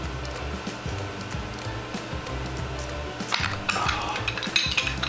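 A cast PLA bottle opener works on a freshly stirred beer bottle, with close clinks and scraping of plastic against glass, then a short burst of fizzing and rattling near the end.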